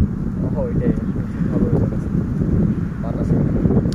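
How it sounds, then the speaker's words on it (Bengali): Strong outdoor wind buffets the microphone with a loud, continuous low rumble, while people talk over it. "বাতাস অনেক"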